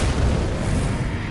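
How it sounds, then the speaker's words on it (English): A ground explosion attack in the Elden Ring video game: a loud, dense, continuous rumbling roar that fills the whole moment without letting up, with no speech over it. "Oh, that fucking ground explosion"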